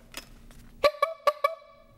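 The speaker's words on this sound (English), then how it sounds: "honk your horn" A car horn gives four short, sharp honks in quick succession, close and loud after a brief quiet stretch.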